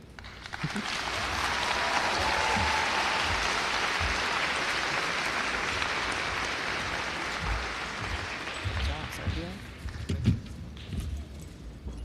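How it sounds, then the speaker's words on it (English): Graduation-ceremony crowd for a 2021 high school class applauds student speakers leaving the stage, a broad, sustained wash of many hands that swells early, then slowly tapers, with a few isolated claps near the end. "While our student speakers are exiting the stage, please give them another round of applause"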